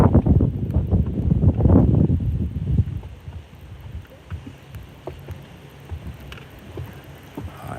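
Wind gusts hard during bass fishing, rough low buffeting against the microphone for the first few seconds, then dropping to a softer, steadier rush with occasional light knocks.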